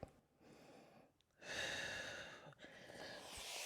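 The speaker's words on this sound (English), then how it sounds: "2 more breaths here." Steady, audible breaths from a person holding a twisting ab stretch on a Pilates reformer box, long airy exhales close to the microphone with no talking.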